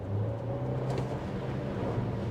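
A Renault Koleos 1.3 TCe engine hums steadily with a low, even drone, heard from close by without talk.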